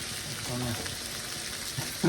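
A steady sizzle of potatoes with mushrooms frying in a pan, with a faint scrape near the end.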